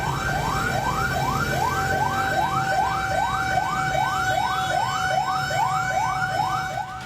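A fire engine siren approaches a burning minibus, wailing in a fast, steady, repeating up-sweep pattern, loud and continuous over low traffic rumble.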